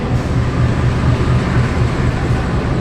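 Bengawan passenger train waiting at a station platform, track 4, hauled by a CC 201 locomotive, giving a steady loud low idling rumble with a faint regular throb throughout.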